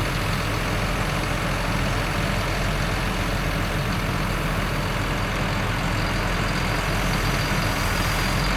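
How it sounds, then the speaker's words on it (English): A delivery truck idles at the farm gate while pallets of bricks are dropped off for a cottage renovation, giving a steady, fairly loud engine rumble with broad noise throughout. "this is how the bricks are then being dropped in, with the truck there at the gate"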